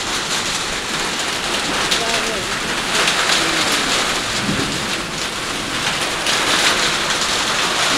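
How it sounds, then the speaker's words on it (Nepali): Heavy rain pours down steadily in a windy pre-monsoon storm in Kailali, a dense, loud, unbroken hiss filling the whole stretch. "फेरि पनि वर्षा। तेस्रो चोटि वर्षा भयो।"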